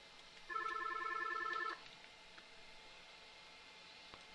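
A telephone extension rings during a call transfer on a MaxCS phone system, a single burst of electronic ring tone lasting about a second, fairly clear over faint background hiss, then quiet.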